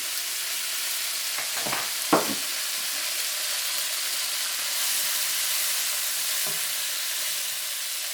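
Cooking sherry poured over oysters stir-frying in a wok sets off a loud, steady sizzle and steamy hiss, with a few low knocks of the spatula near the start and no talking.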